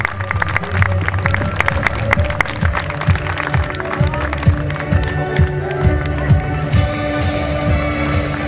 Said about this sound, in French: Le public vous applaudit bien sûr comme il se doit